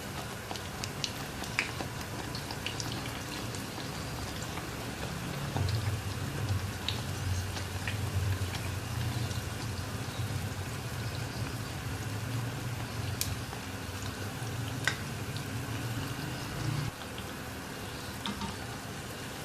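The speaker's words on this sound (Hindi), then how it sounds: "और थोड़े ज़्यादा तेल में फ्राई होता है ये।" Poori paratha dough frying in a generous amount of oil, a soft steady sizzle and crackle with scattered pops, fairly quiet and close, carrying on without talk.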